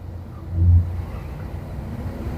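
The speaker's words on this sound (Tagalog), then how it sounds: "Medyo traffic na tayo ngayon kasi ano na magpo-4 na eh." Steady low road-traffic rumble on EDSA at rush hour on a Saturday afternoon, heard from inside a vehicle in slow traffic, with a brief swell of engine drone and no voices.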